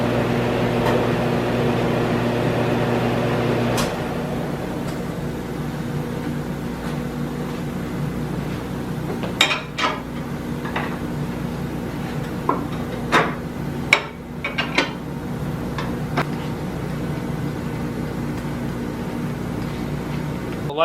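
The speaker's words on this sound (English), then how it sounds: "Once we get done milling it here, then we can start working on the seat and guide situation." A milling machine taking a skim cut on a Ford 390 cylinder head, a steady mechanical hum with a lower drone that drops after a few seconds, punctuated by scattered clicks and clanks.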